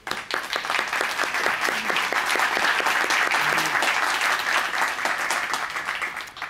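Audience applause at a tribute event held at the American Museum of the Cuban Diaspora, steady dense clapping from a seated crowd that swells quickly and holds for several seconds before tapering off.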